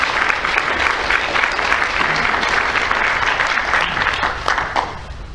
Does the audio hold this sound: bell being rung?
no